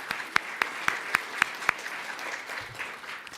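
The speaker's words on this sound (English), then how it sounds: "that's right, we can clap" Audience at a Kid Governor inauguration ceremony clapping in unison, six sharp, evenly spaced claps, then scattered softer clapping trailing off, with no talk over it.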